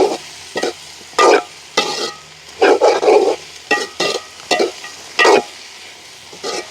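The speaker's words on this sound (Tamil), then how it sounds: "வெண்டிக்காய் அந்த எண்ணெயிலேயே எங்களுக்கு அப்படியே பொரிஞ்ச மாதிரி" Cut okra frying in a pan of oil, stirred in a steady run of loud, close scraping strokes over a constant sizzle, about a dozen bursts with short pauses between.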